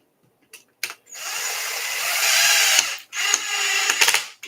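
A power tool drives screws into fresh threads on an Arrma Kraton 6S RC truck, giving a few short blips and then two loud, steady, strained whirring bursts close by, with no talk.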